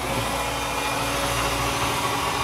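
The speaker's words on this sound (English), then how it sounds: "So the berth raises on a power strut" A power strut raising the berth on a 2014 Krogen Express 52-foot boat, giving a steady electric motor whir that holds constant and close for its whole length.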